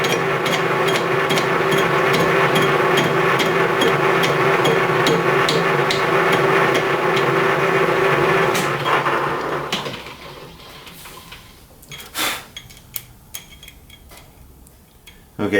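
A metal gear rack is cut on a machine while the workpiece is fed in by hand, making a loud, steady, rapidly ticking metallic grind for about nine seconds before it stops, followed by a few scattered clanks.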